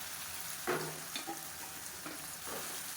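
Plantain pieces frying in masala oil, with soft sizzling and a few stirring scrapes throughout, fairly quiet and close.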